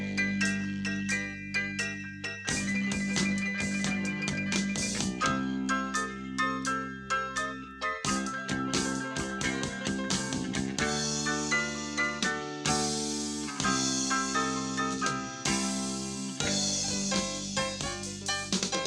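A song plays as continuous recorded music, with steady rhythmic chords, bass and melody at moderate loudness.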